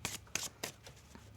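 A tarot card deck is shuffled by hand in a few brisk riffling bursts, close and fairly quiet, with brief pauses between them and no talk.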